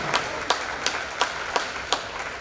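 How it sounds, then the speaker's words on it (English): Clapping for the tennis team at a spring sports award night: a run of sharp, evenly spaced claps in a steady rhythm, fairly close and moderately loud. "Let's give a round of applause for our"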